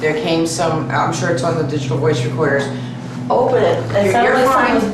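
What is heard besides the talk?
No everyday noises stand out.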